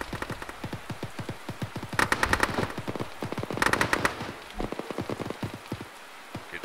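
In a tactical shooter game, bursts of automatic gunfire crackle in rapid volleys, with two louder, denser bursts standing out among scattered distant shots at a moderate level.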